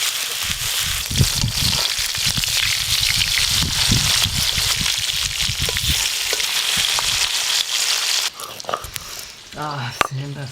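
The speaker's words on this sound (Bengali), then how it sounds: "এবার ইলিশ মাছগুলো ভেজে নেব" Hilsa fish fry in hot oil with a loud, dense, continuous sizzle up close for most of the stretch, then the sizzle drops away into quieter kitchen clatter, with a brief voice near the end.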